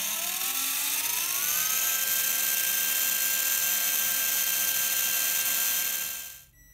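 A Robbe Blue Arrow XL RC helicopter motor runs up under a throttle test on the bench, a steady high whine with tones climbing and then holding level for several seconds before cutting off abruptly.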